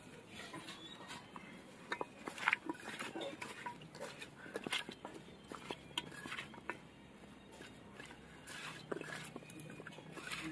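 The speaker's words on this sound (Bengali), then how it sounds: "সব কিছু দিয়ে মেখে নেবো ভালো করে।" Spoon clatters against a bowl as potato snack batter is mixed with chili powder, garam masala, egg, cornflour and rice flour, a steady run of close scraping and clinks with no talk.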